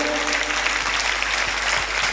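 Steady, dense applause from an audience at a Jain religious ceremony, continuous and fairly loud throughout, honoring a respected elder brother figure.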